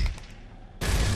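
Gunfire in the video game Gears of War, with a dense burst of shots erupting abruptly after a quieter stretch and continuing loudly to the end.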